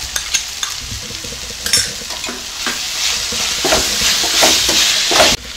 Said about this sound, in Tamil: இது கூட சோயா சாஸ் நல்லா கொஞ்சம் வதக்கி விட்டுக்கலாம்.